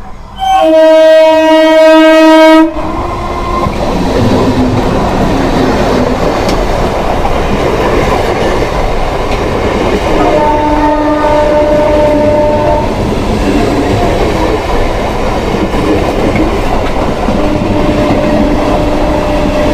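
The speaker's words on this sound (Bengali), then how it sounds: "ট্রেন যাচ্ছে সার্কুলার রেল।" A Kolkata Circular Railway train passing close by, opening with a loud sustained horn blast, then a continuous heavy rumble and clatter of wagons on the rails, with brief squealing tones partway through.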